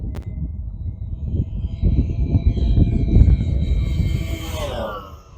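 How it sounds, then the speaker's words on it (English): RC model airplane making a high-speed full-throttle pass, its engine whine building from faint to a strong rushing roar and then sweeping down in pitch as it flies by, with some low wind rumble underneath. "Here comes a high-speed pass,"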